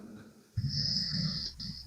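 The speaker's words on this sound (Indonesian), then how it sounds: "Tidur orang ini, ngorok dia." A person snoring while asleep, one close, rough, rumbling snore that starts abruptly and holds for over a second, with faint breathy noise before it.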